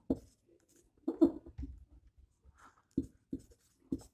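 Chalk or marker writing on a board while an equation is worked out: sparse scratchy strokes and taps in separate bursts, close and faint in a quiet room, with no talk over them.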